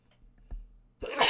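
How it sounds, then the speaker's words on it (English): A single person's sneeze bursts out suddenly and loud at the end, after a quiet lead-in with a small throaty catch, close to the microphone. "Excuse me, had to do a little sneezing."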